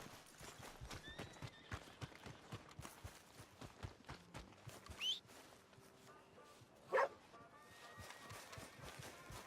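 Horse hooves clip-clop steadily through a Red Dead Redemption 2 game scene, joined by two short, sharp whinnies from the horse, one mid-clip and a louder one near the end.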